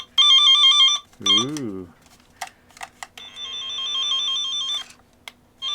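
A signal tracer's steady electronic test tone beeps in bursts, broken by a short exclamation and a few clicks, then returns as a sustained high tone.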